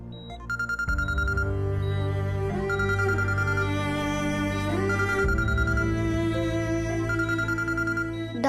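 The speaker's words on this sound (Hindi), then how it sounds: "आप फोन पिक करो।" A phone plays a melodic ringtone continuously over several seconds, its musical tones loud and repeating with a steady rhythm; no voices over it.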